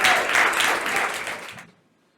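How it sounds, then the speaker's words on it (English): An audience at an industrial training night presentation gives a round of applause for speaker Davisha, a dense burst of clapping that swells briefly, then thins and fades out into quiet. "can we give a round of applause to Davisha?"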